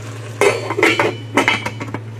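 A lid is set onto a pot of beef vegetable stew, making a few close metallic clanks and clinks over a steady low hum from the stove.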